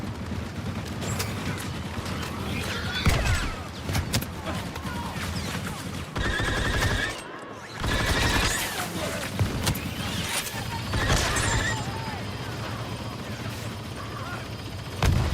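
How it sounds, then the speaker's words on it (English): Covering gunfire in Star Wars Battlefront II, a dense, continuous spray of blaster shots and battle clatter running nearly throughout, briefly dropping out near the middle before resuming loud. "Laying down covering fire."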